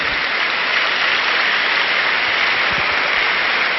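Seminar audience applauding, a dense, loud, continuous wash of many hands clapping close by.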